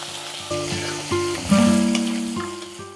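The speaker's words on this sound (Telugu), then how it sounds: "నూనె కొంచెం వేడెక్కాక ఈ తరిగిన వంకాయ ముక్కలు వేస్తున్నాను." Chopped brinjal pieces sizzle in hot oil in a pan, a steady frying hiss underneath sustained tonal background music, with no talking.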